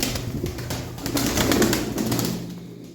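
White domestic pigeons cooing and rustling close by, with soft wing flutters and scattered clicks, no voices.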